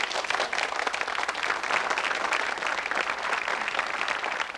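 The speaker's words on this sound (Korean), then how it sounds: "박수를 쳐주세요" A crowd applauds steadily, a dense wash of many hands clapping at once that holds evenly for a few seconds.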